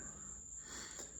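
Crickets chirp steadily in a rural Florida setting, a continuous high-pitched trill holding throughout at a moderate distance, with no voices over it.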